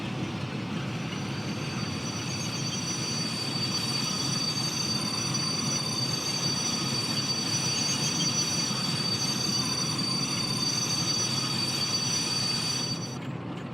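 Simulated train braking in Train Sim World 6, a steady loud rumble of rolling rail wagons with high, sustained wheel squeal layered over it for most of the run, then cutting off abruptly.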